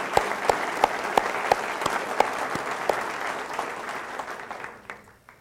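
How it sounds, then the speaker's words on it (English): An audience applauds at a county executive's inaugural ceremony, with dense steady clapping that fills the room and then fades out near the end. "Please give her a round of applause."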